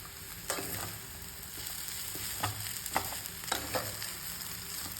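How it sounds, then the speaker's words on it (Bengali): Maggi noodles fry in a pan with a steady background sizzle and several soft stirring scrapes and taps spaced across the few seconds, heard up close at moderate volume. "এবারে ম্যাগিটা ঢেলে দিচ্ছি"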